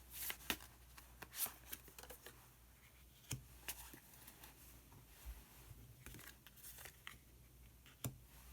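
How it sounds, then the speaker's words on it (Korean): Tarot cards handled and drawn from a deck: soft, scattered papery slides and taps, very quiet and close, with a few brief flicks spread unevenly. "그러면 히든 카드를 한 장 더 뽑아보도록 하겠습니다."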